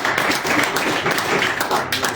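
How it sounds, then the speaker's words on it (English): An audience at a general meeting breaks into applause, a dense burst of clapping lasting a couple of seconds. "We should give him a round of applause for actually getting them back again."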